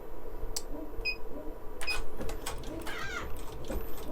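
A Brother PE 800 embroidery machine stitching a towel applique hums with a rapid, steady mechanical chatter, punctuated by brief clicks and a couple of short electronic beeps, moderately close.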